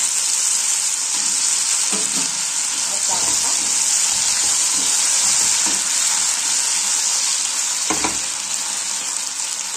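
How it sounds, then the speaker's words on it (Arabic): Potatoes fry in hot oil for a savory tagine-style dish, giving a steady, loud sizzle throughout with a few utensil scrapes and clicks scattered over it. "درنا الزيت وغادي ندير البطاطا ديالي تقلى"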